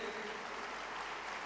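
An audience claps to welcome a guest onto the stage at an anniversary event, a dense, even patter of many hands heard from a distance and fairly faint throughout.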